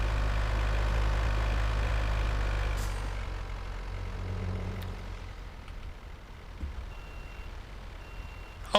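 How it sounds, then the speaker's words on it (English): A truck's reversing alarm beeps in a regular repeating pattern, faint and distant over a low engine rumble, with no one talking. "Oh, it even makes the beep backup sound."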